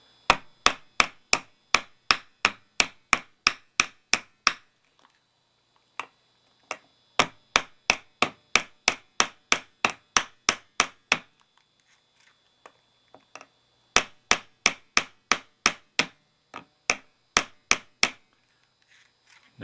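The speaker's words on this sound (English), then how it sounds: "Now I see why this hammer is in the thrift store." Repeated sharp hammer strikes in quick, steady bursts, with short pauses between runs of blows; close and fairly loud, no talking.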